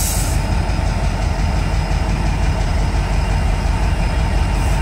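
Norfolk diesel locomotive revving near a train station sidetrack, a loud, steady low engine rumble and rail noise that holds evenly throughout with no talking.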